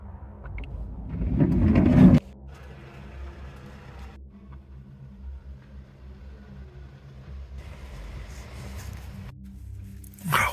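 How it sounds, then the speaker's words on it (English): A car reverses up outside a parked van at a forest site and then drives off: a loud engine rumble for about two seconds, then a quieter, steady low drone that fades out, with a brief bump at the very end. "within a minute there was a car reversing up and it's just driven off"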